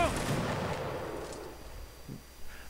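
A musket volley from line infantry in Mount and Blade: Napoleonic Wars opens loud, then decays into a rolling rumble that fades over a couple of seconds, with a faint distant crack near the end.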